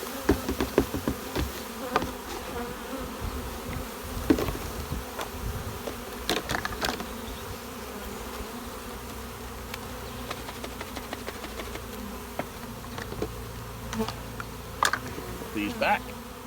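Honey bees, young house bees, buzzing around an open tub during varroa mite sampling, a continuous close hum broken by knocks and clicks of handling, with a voice talking intermittently.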